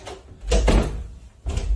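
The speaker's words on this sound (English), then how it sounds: "Dude, close the door." A door pushed shut in a home, a couple of dull thuds close by, fairly loud, with no talk over it.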